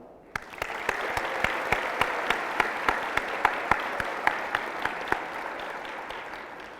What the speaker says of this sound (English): I would love to give you a huge round of applause